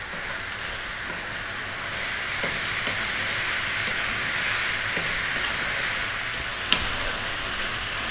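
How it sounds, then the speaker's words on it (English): Vegetables for fried rice sizzle on high heat in a pan, a steady loud frying hiss with faint scraping and stirring knocks, plus one sharp clatter near the end. "Stay on the high heat, 3 to 4 more minutes, stirring pretty much once again all the time."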